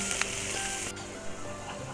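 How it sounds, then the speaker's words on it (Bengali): Onions frying in hot oil, a continuous close sizzle with a bright hiss that stays level throughout the short stretch. "ওই তেলের মধ্যে দিয়ে দিলাম পেঁয়াজ পেঁয়াজটা ভালো করে ভেজে নিচ্ছি"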